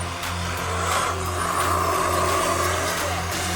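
A fast RC buggy drives on a track, its electric motor whining loudly and shifting pitch as it speeds down a straight and brakes into a turn, with sharp tire scuffs and no talking.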